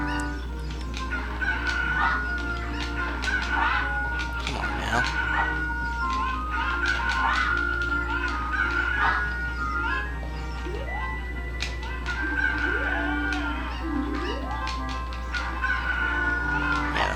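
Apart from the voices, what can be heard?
cuckoo chickens clucking and crowing in Zelda Ocarina of Time video game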